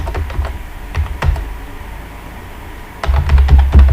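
Keys clacking on a computer keyboard while C code is typed, a quick irregular run of taps, then a pause, then a denser burst of keystrokes, close and alone.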